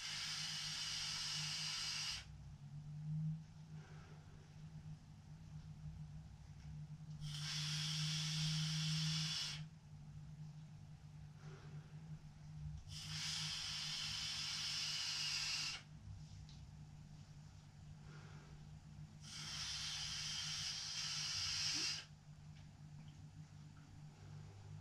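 A Vaporesso X-Mini pod e-cigarette filled with nicotine-salt liquid lets out four long, evenly spaced hissing draws of vapour, soft and close, separated by quiet pauses.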